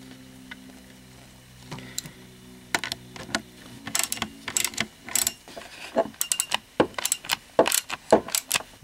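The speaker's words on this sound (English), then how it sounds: "You take your spanner wrench. It has a couple of small teeth to correspond with the holes." A spanner wrench working loose a bolt from an SKS rifle stock, giving sharp metallic clicks and ratcheting scrapes, sparse at first and then growing into a quicker run of close, crisp taps and grinding turns.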